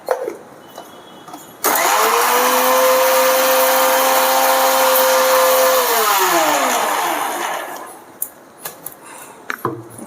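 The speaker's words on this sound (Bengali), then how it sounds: "এটা আরেকটু পিষে নিই আরেকবার" An electric mixer grinder whirs loudly for about six seconds grinding spice paste for a hog plum pickle, holding a steady motor whine before winding down, followed by a few faint kitchen clicks.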